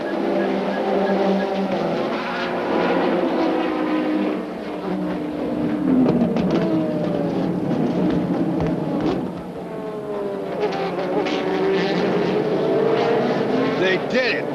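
Pack of ALMS sports racing cars roaring away at the green-flag start, engines loud and sustained with rising and falling pitch sweeps as cars pass, under continuous commentator talk.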